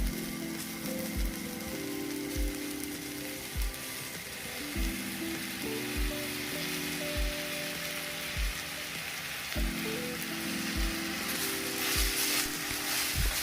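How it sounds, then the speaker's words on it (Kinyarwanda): Steady, close sizzling of beef stir-frying with honey in a hot pan, with occasional stirring scrapes and a low background hum. "Ugakomeza gukaranga nk'umunota umwe cyangwa ibiri"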